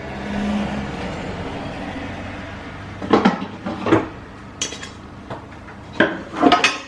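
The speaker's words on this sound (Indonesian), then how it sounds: "Ambil panci besar." A large cooking pot is picked up among dishes in a home kitchen, giving several sharp metallic clanks and clatters in the second half after a quiet stretch of low room noise.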